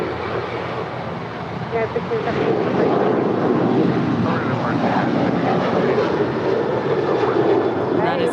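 United airliner flight 1617 taking off from runway 25 right at LAX, bound for Chicago O'Hare, its jet engines a broad, steady roar building slightly, with a voice speaking briefly over it.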